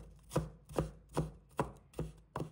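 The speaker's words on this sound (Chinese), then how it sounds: "一块生姜，把它切成丝。" A knife cuts a piece of fresh ginger into fine shreds on a cutting board, giving six sharp, evenly spaced chops close by with no voices.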